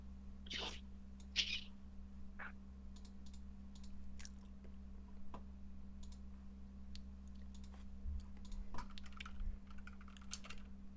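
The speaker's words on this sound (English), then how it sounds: "you got the fancy lit up keyboard like me" Soft, scattered clicks of typing on a lit-up computer keyboard sound faint and irregular over a steady electrical hum, with a few louder taps near the start.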